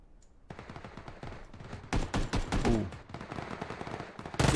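Rapid automatic gunfire from the video game Battlegrounds, dense bursts that grow louder and closer midway, then continue as a steady rattling fusillade to the end.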